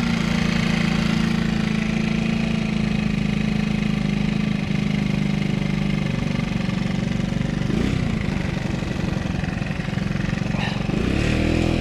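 A tuned, ported scooter engine running close by, a loud steady buzzing drone that dips and shifts in pitch near the end before rising again, with possible valve trouble.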